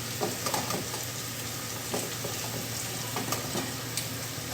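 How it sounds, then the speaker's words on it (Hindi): Boiled macaroni tossed into sizzling masala in a pan, producing a dense, steady frying hiss with repeated soft scrapes and stirring knocks of a spoon throughout, close and continuous with no speech. "ये अब हम मैक्रोनीस में ऐड कर रहे हैं जो मैंने बॉयल की थी मसाले में"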